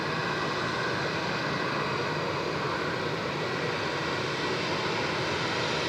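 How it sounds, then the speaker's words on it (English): A Malindo Air jet departing Sydney Airport for Bali, heard as a steady, broadband engine roar from a distance, unchanging and continuous with no voices over it. "There we go, Malindo 172, heading off to Bali today."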